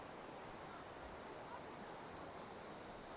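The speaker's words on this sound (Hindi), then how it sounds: "पानी आ रहा है और ये आके फॉल होकर ये गिर रहा है नीचे यहाँ पर" The steady, dense roar of a Mantoka waterfall dropping roughly 500 to 600 feet fills the air: continuous broadband rushing water, even in level and fairly soft, with no voices over it.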